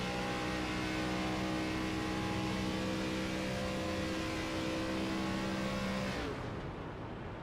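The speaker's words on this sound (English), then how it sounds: "You heard that car shut off." A NASCAR race car in the iRacing video game drones at a loud, steady engine pitch under constant road and wind noise, then the engine tone cuts out near the end while the rushing noise carries on.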